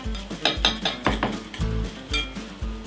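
A whisk beats egg yolks and bee pollen in a bowl for chicken soup, making steady rhythmic metallic clinks and scrapes against the bowl, close and fairly loud, with no talking.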